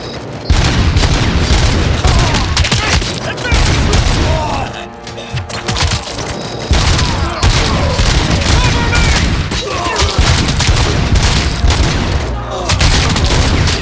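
Heavy gunfire in the video game RoboCop Rogue City, a sustained, loud barrage of shots and booming impacts filling the whole stretch, with shouted voices mixed into the din.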